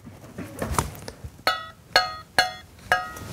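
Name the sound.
loose saw blade plucked, wobbling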